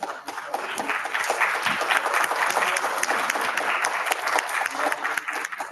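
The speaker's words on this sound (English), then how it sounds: "Please give huge round of applause." An audience at a conference and youth festival claps in a sustained, dense round of applause, loud and steady for several seconds, with faint voices underneath.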